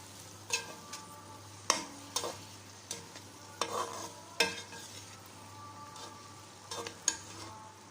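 Garlic ginger paste fries with browned onions in a pan for chicken karahi, a steady low sizzle punctuated by sharp spatula scrapes and knocks at irregular intervals, close by with no talk.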